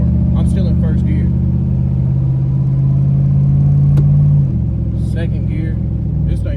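A car engine in first gear drones at a steady, gradually rising pitch for several seconds, then drops lower, with brief voices and clicks over the top.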